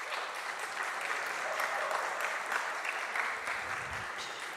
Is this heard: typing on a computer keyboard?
no